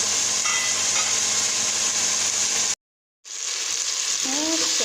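Tomatoes and onions frying in a pan for a chicken and potato stew, a steady dense sizzle broken by a brief silent gap, then continuing with faint voice-like tones beneath.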